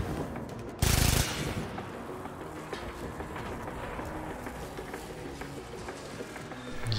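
Gunfire in Warframe blasts through spinning turbines on Jupiter's gas city level: one loud, short burst near the start, then a low steady mechanical rumble carries on.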